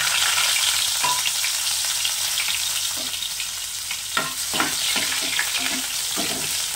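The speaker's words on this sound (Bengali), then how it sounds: "পেঁয়াজটা লাল করে ভেজে নেব।" Onion fries in a pan of hot oil with cumin, giving a loud, dense, close sizzle and a scattering of quick spatula scrapes toward the end, with no speech.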